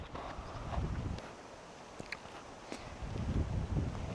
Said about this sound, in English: Well, breezy morning.